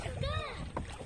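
A tourist boat glides through the water channels of the Pichavaram mangrove forest in Tamil Nadu, giving a soft, close wash of water and hull noise while a person speaks briefly over it.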